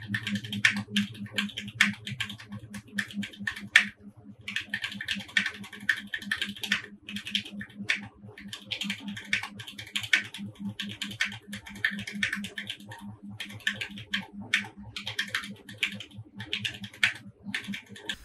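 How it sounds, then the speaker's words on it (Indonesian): Steady, fast typing on a mechanical keyboard fitted with Gateron Red switches, a continuous run of clacky keystrokes close to the mic with no talking. "Dan lanjut sekarang ke typing testnya."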